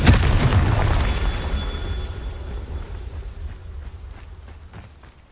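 The Confringo fire-blast spell in Hogwarts Legacy bursts with a loud, deep boom that rolls on and slowly fades over several seconds.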